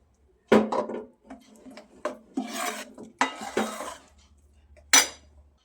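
Sukhadi batter being stirred in a pan with a utensil, giving a series of scraping, rasping strokes and occasional clinks of metal on the pan, close and fairly loud with short pauses between strokes.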